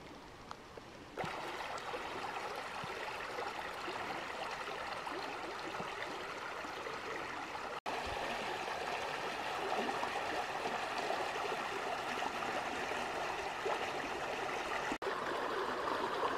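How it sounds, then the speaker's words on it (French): A river flows steadily in the open, its broad, even rush of water holding constant and fairly close for the whole stretch after a brief quieter opening. "La voici, la rivière."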